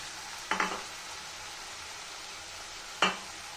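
Grated ginger and garlic stirred into vegetables frying in a pan: an even, hissing sizzle throughout, broken by two distinct spatula scrapes against the pan, close and with no voices.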